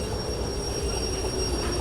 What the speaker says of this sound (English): we turn on the train brake, which hits all the cars. So now the train is going to stop